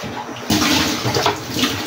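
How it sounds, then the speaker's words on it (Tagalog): Water splashes and pours loudly into a container, a sudden gush starting partway through and continuing with bubbling turbulence. "So, palitan din natin yung tubig."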